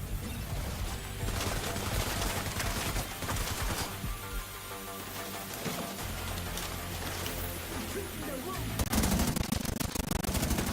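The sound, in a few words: gunfire in video game The Division 2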